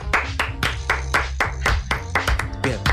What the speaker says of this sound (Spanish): Aplausos desincronizados.